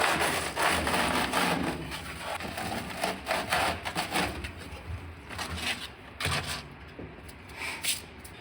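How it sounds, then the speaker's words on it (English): Razor blade slicing through tough firewall insulation material during a Vintage Air installation, with repeated scraping, rubbing cuts in uneven strokes close to the listener and no talking. "now that I got a real razor blade, this stuff's tough to cut."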